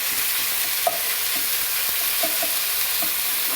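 Half a kilo of minced meat sizzles steadily in a pan with onion and garlic, a continuous bright fry broken by a few soft stirring clicks and scrapes, close by with no talking.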